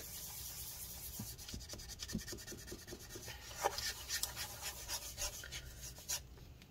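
A tool scrapes gunk inside a 15-inch Retina MacBook Pro A1398 during battery removal, making faint, close, repetitive rubbing and scratching strokes in an irregular rhythm.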